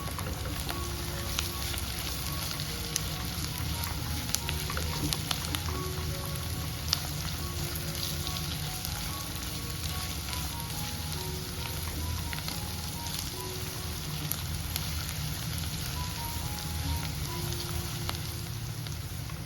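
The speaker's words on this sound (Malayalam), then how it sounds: "കുറച്ച് കറിവേപ്പിലയും കൂടെ ചേർത്ത് കൊടുക്കാം. ഇനി എല്ലാം കൂടെ നന്നായി ഒന്ന് വഴറ്റിയെടുക്കാം." Garlic, green chillies and curry leaves sauté in a pan for a prawn and drumstick curry, giving a steady, even sizzle with faint scattered crackles and no talking.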